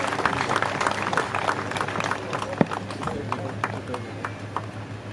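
Crowd applause welcoming athletes at a 2022 CRPF passing-out parade in Hingna, Nagpur: steady, dense clapping with scattered sharper claps, continuing evenly throughout at moderate loudness.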